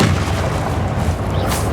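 The Incendio fire spell is cast in Hogwarts Legacy, producing a loud, dense booming roar of flame that stays heavy and continuous throughout with no gaps.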